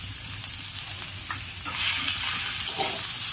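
Beetroot, carrot and potato with salt being stir-fried in a pan, a close sizzle with soft scraping stirs that grows louder and hissier partway through, no one talking.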